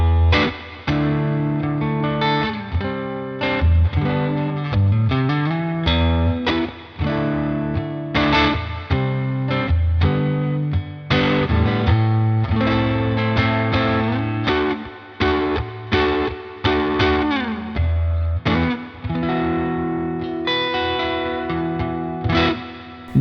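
Electric guitar plays through a NUX Ace of Tone dual overdrive pedal set to light drive with gain at halfway, slightly dirty chords and riffs ringing loud and continuous with no talking.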